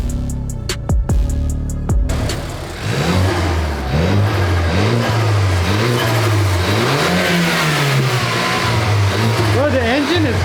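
A BMW F30 fitted with a Go Fast Bits diverter valve revs loudly up close in repeated rising and falling blips after a few short mechanical clicks, with voices talking over the engine.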